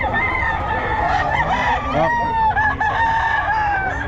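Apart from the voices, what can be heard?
rooster crowing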